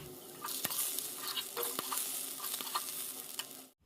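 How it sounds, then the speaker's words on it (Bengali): Potatoes fry in a pan with a steady close sizzle, broken by several sharp scraping clicks as they are stirred. "এখন আলু ভাজা হচ্ছে।"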